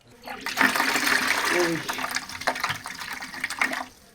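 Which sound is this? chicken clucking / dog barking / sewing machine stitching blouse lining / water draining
water draining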